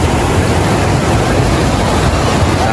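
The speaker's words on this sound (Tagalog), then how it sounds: "Lakas ng hampas ng alon." Strong ocean waves crashing on a crowded beach at San Fabian, Pangasinan, a loud, continuous broadband roar of surf that stays constant and close, with no talk heard.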